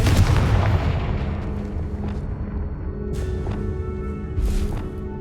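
A Confringo blasting spell cast in Hogwarts Legacy: a heavy booming burst at the start that decays into a rumbling tail, followed by a few lighter crackling impacts.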